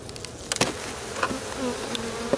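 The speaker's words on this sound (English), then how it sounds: "Yeah, you got a lot of bees in there." Honey bees hum steadily around a frame pulled from a hive, a close, dense buzzing with a few clicks and knocks from handling during a honey harvest.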